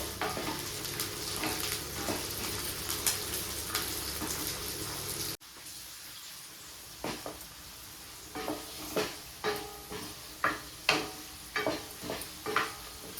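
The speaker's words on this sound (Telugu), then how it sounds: "బఠానీ కూడా మంచిగా వేగాలి." Green peas fry in a pan, giving a steady sizzle for the first few seconds and then sparse, sharp crackles and stirring scrapes after a brief drop in level.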